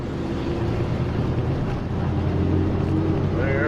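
A 1966 Ford F-250 truck's engine runs cold with the choke on, a steady rumbling idle with wind buffeting; a voice speaks briefly over it.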